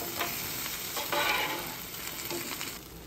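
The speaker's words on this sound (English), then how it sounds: "Potatoes are cooking nicely." Sliced potatoes and thick onion slices fry on a hot Blackstone griddle in a steady, close sizzle, with brief scraping and stirring bursts from a spatula and no talking.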